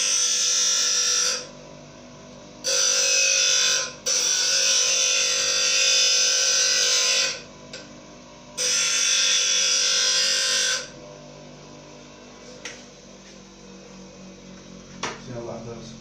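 A chisel being sharpened with a power tool, loud steady grinding buzz in several long bursts separated by short pauses, then quieter workshop noise with faint clicks.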